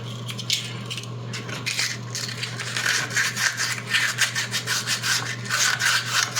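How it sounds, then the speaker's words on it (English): Rolled sandpaper is worked by hand over putty on a 3D-printed figure, with quiet scraping that turns into quick, steady back-and-forth rubbing strokes, close up with no voices. "let me see if I can't roll some sandpaper and make it a better shape"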